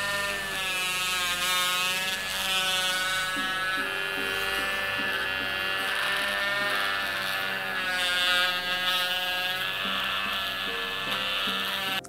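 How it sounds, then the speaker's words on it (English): A Dremel rotary tool fitted with a cocobolo wood tip burnishes the edges of leather for a magnetic key pouch, giving a steady, close, high-pitched motor whine that wavers slightly in pitch as it presses against the edge. "Another option to burnish is to use a Dremel with a little special tip."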